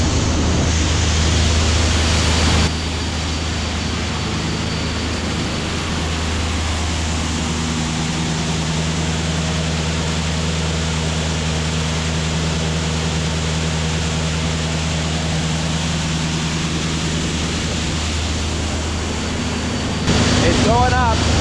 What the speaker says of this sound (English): See how fast it's really going in the blower.